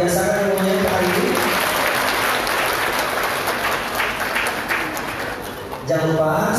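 Audience applause at a marketing seminar, a full burst of clapping that holds steady for several seconds, with a speaker's voice over the start and returning as the clapping fades at the end.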